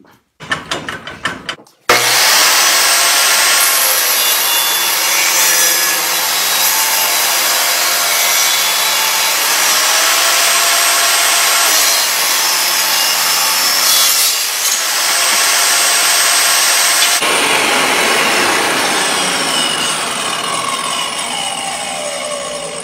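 Hand saw cutting wood at an 18-degree angle for geodesic dome triangle pieces, a continuous loud rasping stroke sound that runs steadily for about twenty seconds after a few short opening strokes.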